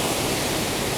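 Waterfall roaring steadily as a dense, even wash of broadband rushing water, loud and close for about a second, with no talk.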